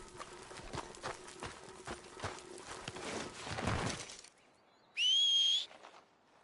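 A horse's hooves clip-clop in steady, fairly close steps in Red Dead Redemption 2 on PS4 Pro. The hoofbeats then stop abruptly, and a brief, bright whistle-like tone sounds alone after a short pause.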